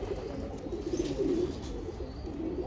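A domestic flying pigeon coos close by, a low, soft, rolling call that continues steadily throughout.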